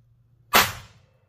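A single sharp, loud gunshot crack from a High Standard .22 WMR test firing, close up, with a short decaying tail into quiet.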